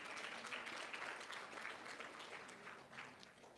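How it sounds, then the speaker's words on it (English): An audience at a women's leadership program applauds in a continuous, even wash of clapping, heard faint and distant throughout. "A round of applause for them."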